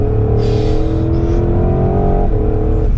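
A powerful 2021 Porsche Cayenne GTS Coupe engine roars steadily under hard acceleration, with a quick gear change breaking the drone partway through; loud and close, no voices.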